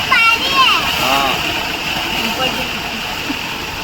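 Water gushes and splashes at a tubewell on a mango orchard farm, a continuous rushing wash heard close, with a voice and other talk over it.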